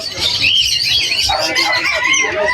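Golden finches and other caged birds at the Malabon pet market chirp and squawk continuously in a busy, close chorus, with faint voices in the background.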